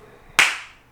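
A single sharp hand clap rings out alone against near silence, loud and close, its tail fading quickly.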